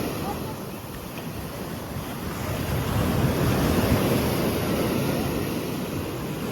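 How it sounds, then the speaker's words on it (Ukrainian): Sea waves wash continuously onto the beach at Karolino-Buhaz, Ukraine, swelling slightly louder midway, with gusty wind buffeting the microphone. "Сьогодні хвилі."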